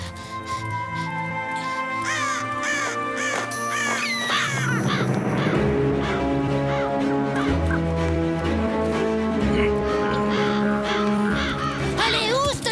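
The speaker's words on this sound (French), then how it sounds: "Allez, oust les oiseaux! Saleté de corbeau." Crows cawing in an animated cartoon, a flock of loud, harsh, repeated caws layered over a musical score, with a voice speaking among the calls.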